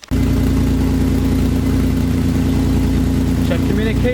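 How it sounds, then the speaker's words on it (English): A 2005-2008 Mustang V6 engine cranks and catches, then settles into a loud, steady idle with an even mechanical pulse, with a brief higher-pitched whine near the end. "You're going to start the engine."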